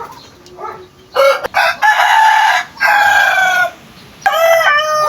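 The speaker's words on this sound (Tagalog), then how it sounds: "Ang laki ng manok na to oh." A rooster crows loudly and nearby several times in long drawn-out calls, with softer clucking from hens in the quieter moments between.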